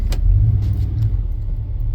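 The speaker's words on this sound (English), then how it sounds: "You put it in gear, it's almost stalling now." A GMT400 pickup truck with throttle-body injection and a failing fuel pump, its engine nearly stalling in gear: a loud, close, uneven low rumble that lugs and shudders throughout, with a few faint clanks on top.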